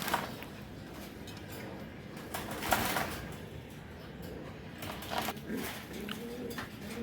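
Large racing pigeons (Giribaz breed) coo softly in a loft, faint and intermittent against steady background noise, with no talking.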